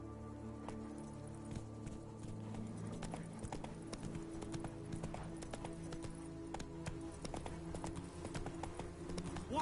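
Hooves clip-clop at a steady trot as Roach, a horse in The Witcher video game, moves along, faint under a low ambient backdrop.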